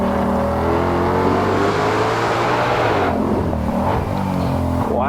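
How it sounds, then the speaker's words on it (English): A Ford Shelby GT500 engine on a race track roars steadily, its pitch climbing and then dropping with blips as gears change, loud and continuous inside the car with no talking. "Wow, listen to rev matching."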